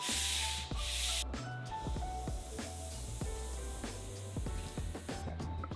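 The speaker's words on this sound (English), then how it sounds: "After a drying time of 12 hours, sand with P180." Boat paint, Epifanes mono-urethane, being sanded with P180 sandpaper: repeated rhythmic rasping strokes, close and fairly quiet, with a brief louder hiss at the start and end.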